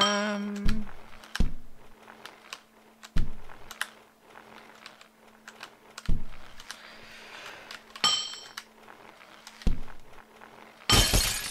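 Glass shatters repeatedly in the game Happy Wheels, several sharp crashes with tinkling debris spread across the span between loud impacts, with tapping clicks in between and a bright burst at the end.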